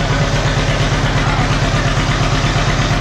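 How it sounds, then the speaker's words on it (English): A John Deere tractor engine runs at a steady idle after sitting all winter, a loud, close, continuous low rumble with an even throbbing pulse and no voices. "we definitely got the John Deere tractor running though"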